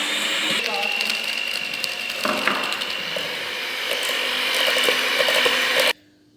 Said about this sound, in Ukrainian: Наступна операція будемо збивати маргарин з цукром.